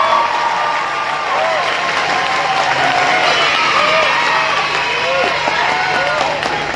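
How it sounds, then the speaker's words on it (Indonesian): A workshop audience with a government minister present applauds loudly and continuously, dense clapping and crowd noise sustained throughout with voices mixed in underneath. "Daripada tanggung-tanggung tepuk tangan, lebih baik kita kerasin aja tepuk tangan."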